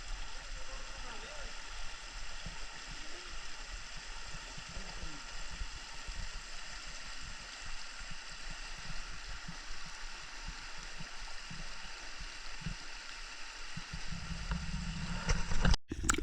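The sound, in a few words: cold glacier-water mountain stream flowing beside trek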